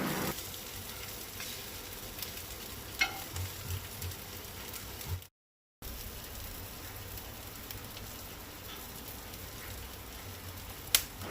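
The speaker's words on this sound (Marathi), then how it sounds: "अशें ते दोनूय सायडींनी बरें चरचरीत भाजून घेवंक जाय" Burate fish fry in a hot pan for a Goan-style fish thali, a steady crackling sizzle that holds throughout, with a short gap midway and one sharp pop near the end.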